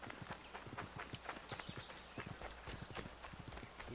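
Horse hooves clip-clop in a quick, steady rhythm in Assassin's Creed 3, the hoofbeats close and continuous over a dense background of game noise, with no talk over them.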